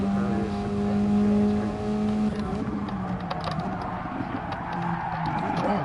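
Race car engine at Tsukuba in a racing video game, a steady held drone that rises and shifts in pitch as revs climb and fall, loud and continuous with mechanical creaks.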